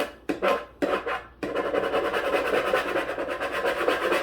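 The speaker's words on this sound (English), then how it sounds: "Grab your scraper, scrape it on there." A scraper drags across a surface, first in a few separate strokes, then in a continuous rough, rhythmic scraping, close and moderately loud.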